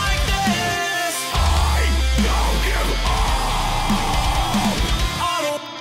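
Heavy electronic music with a deep, sustained sub-bass drop made in Cubase, stretched long and low beneath dense distorted layers for several seconds before cutting off.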